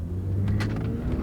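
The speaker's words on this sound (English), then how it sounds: "Step on the gas." A car pulls away from a stop sign with a steady, close engine rumble under acceleration, alongside some brief higher rasping noises, with no talking.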